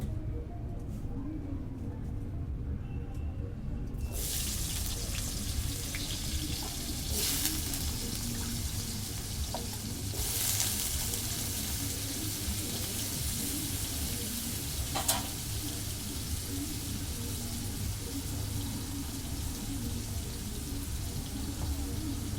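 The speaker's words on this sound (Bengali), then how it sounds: "লবণ দিয়ে আলুগুলো ভেজে নেব।" Potatoes fry with salt in hot oil in a kadai, a steady close sizzle that swells sharply after a few seconds and continues densely, with occasional stirring bumps and a voice speaking over it.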